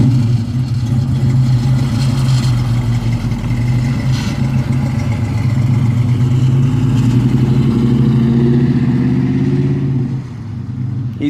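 A classic car pulls away at a car show, its engine rumbling loudly and steadily as it drives off down the street, then fading near the end.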